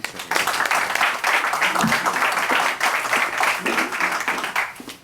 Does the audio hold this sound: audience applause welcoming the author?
yes